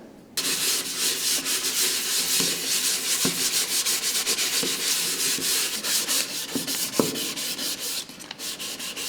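Steady back-and-forth scraping of sandpaper on wood, a continuous rough hiss with rhythmic strokes, close and fairly loud.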